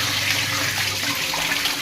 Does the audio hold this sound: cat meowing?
no